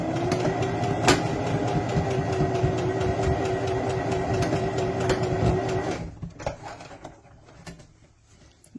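A sewing machine runs steadily, stitching a boffer sword cover for LARP, a fast, even mechanical whir with a periodic rhythm lasting about six seconds before it stops, leaving a few light handling clicks.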